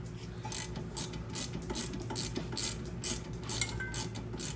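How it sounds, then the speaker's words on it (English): A hand ratchet tightens a brake caliper bolt on a VW Jetta MK6 during a brake replacement, giving a rapid, steady series of faint metallic clicks heard close up, with no talk. "use the hand ratchet to start tightening down the bolt"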